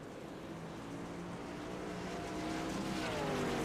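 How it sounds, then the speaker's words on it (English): Midwest Truck Series race truck lapping Knoxville dirt oval, its engine a continuous droning roar that climbs in pitch toward the end as it accelerates, with no voices over it. "So Vinny in the 11, making that truck work here at Knoxville"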